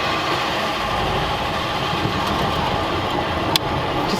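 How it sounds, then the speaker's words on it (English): A 1939 Ford convertible's engine runs loud and close with a noisy throw-out bearing, giving a continuous rough rumble and grinding hum with no pauses. "It sounds a lot scarier in the car with that throw-up bearing."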